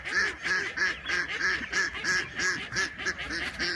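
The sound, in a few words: ducks quacking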